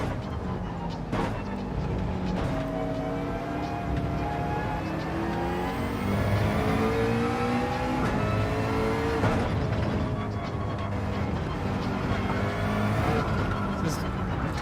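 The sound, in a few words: McLaren car engine revving in video game Gran Turismo 7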